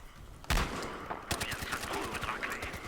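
Pistol shots in the Battlefield Hardline multiplayer game, a loud sharp report followed by a rapid string of close gunshots in quick succession.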